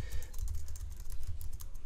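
Rapid, even clicks of a computer keyboard as an email address is typed into an Opera Mail account setup, steady and close-up, with no speech over it.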